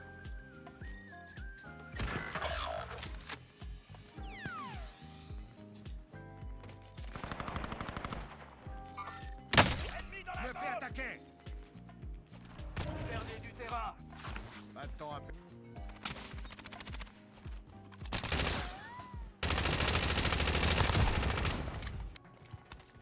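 Gunfire in the battle royale video game Warzone on Rebirth Island, with bursts of automatic fire and single shots scattered across the clip, sometimes loud and sometimes more distant, mixed with game effects and occasional talk.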